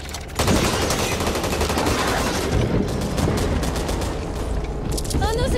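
Machine gun fire in the zombie shooter Back 4 Blood, a dense stream of rapid rattling bursts that runs almost the whole time, loud and busy with game effects and voices mixed in.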